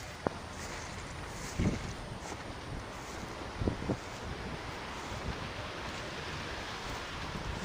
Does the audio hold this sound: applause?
no